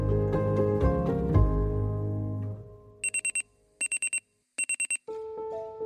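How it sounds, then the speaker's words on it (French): An alarm clock rings in repeated bursts of rapid high electronic beeps, loud and close, following a fading musical passage. "Le réveil sonna à la fin de la nuit de Léa."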